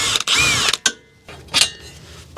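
An impact wrench works on a 14mm ball joint bolt on a 3rd-generation Mazda 3 lower control arm, firing in two loud, close bursts of whirring hammering separated by a short pause, with a clink of metal in between.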